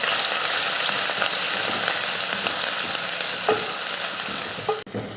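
Chopped small onions, fenugreek and curry leaves sauté in hot oil with a loud, continuous close sizzle, broken by a few scraping stirs near the end.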